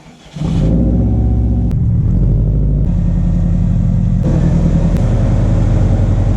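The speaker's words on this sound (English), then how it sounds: "But I gotta pull in the car." A Subaru Impreza "Bugeye" car engine starts up and idles with a loud, steady low rumble close by, slight changes in pitch as it pulls in.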